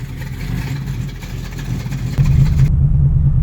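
A cold 1985 Chevrolet Monte Carlo with a cam, running on a chilly winter day: a low, loping engine rumble that jumps louder and rougher partway through as it catches and revs, then holds steady.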